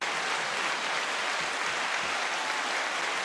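Steady clapping from a small audience or studio group on a sports talk show, celebrating a host's daughter's tenth birthday: dense, continuous applause at an even level throughout, with no talk over it.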